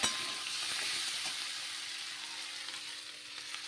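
Potatoes and taro frying in oil in a pan with prawns give off a steady, bright sizzle with faint stirring scrapes, close and even throughout, with no voices.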